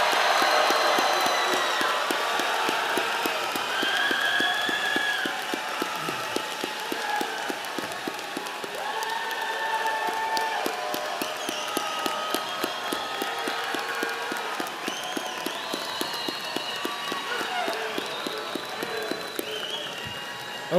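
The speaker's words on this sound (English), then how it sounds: "One more big, loud round of applause for the class of 2023." Sustained loud applause and cheering from a large crowd at the North Hunterdon High School class of 2023 graduation ceremony, dense clapping continuing steadily throughout with crowd noise, no speech.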